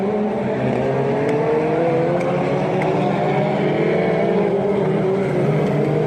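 An F2 race car engine drones steadily on the track, a loud, continuous high-revving buzz with rising harmonics, nearby and without talk.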